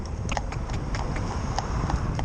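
A half-bred Clydesdale stallion's hooves clop in a steady walking rhythm over a hard surface, close and fairly loud against a constant background rumble.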